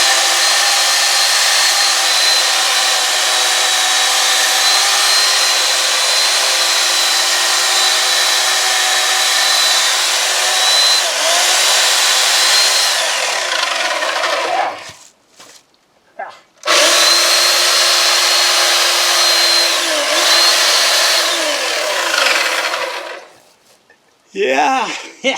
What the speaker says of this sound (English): that's the beauty of an electric chainsaw, eh?